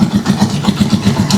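A Rusi Chariot motor trike engine idles just after starting, a loud, close, rhythmic chugging with evenly spaced low pulses and no talk over it.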